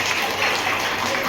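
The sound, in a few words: audience applause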